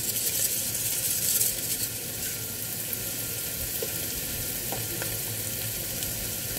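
Tofu hits a hot pan of frying string beans, setting off a steady, moderately quiet sizzle and crackle that runs throughout with a few small pops and no talking.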